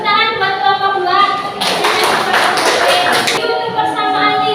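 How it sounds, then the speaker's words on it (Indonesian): Students in a math classroom clap for group 2, a short burst of hand claps in the middle surrounded by tonal, voice-like sounds and children speaking. "Tepuk tangan buat kelompok 2."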